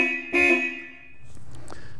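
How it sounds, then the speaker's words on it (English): A 1957 Mercedes-Benz 300 SL Gullwing horn sounds in one short, bright, loud honk, followed by quieter background noise. "if a passenger sees the necessity to honk the horn, they've got easy access to it"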